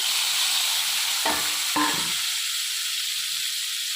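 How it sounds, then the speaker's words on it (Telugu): Onions and tomatoes fry in a pan for paneer curry with a constant, moderate sizzling hiss, broken by two quick stirring scrapes partway through. "ఇప్పుడు ఇదే ప్యాన్లో ఉల్లిపాయలు, టమాటాలు వేసుకుందాం."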